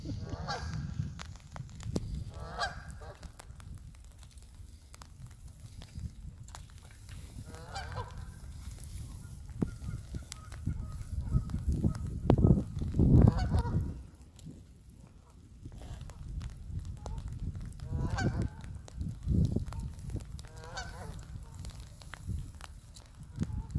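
Geese honk repeatedly in loud, irregular bursts, several birds calling over one another at close range, with a brief lull partway through.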